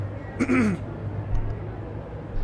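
A person clears their throat once, a short rasping burst over quiet room tone, close to the microphone.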